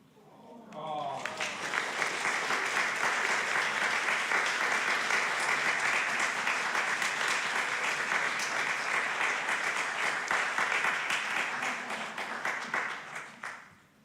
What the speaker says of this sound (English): you'll magnify the strength of this candle with your applause as I light it